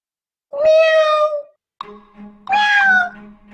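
A cat meows twice, two loud, drawn-out cries close by with a short, quieter sound between them and nothing else in the background.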